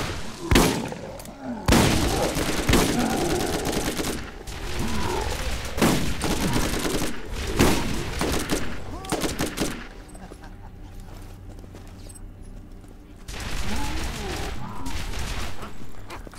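Pistol gunfire in the video game Borderlands, Zombie Island co-op: dense volleys of rapid shots crack in long bursts, pausing briefly between them, loud and close with other game sounds underneath.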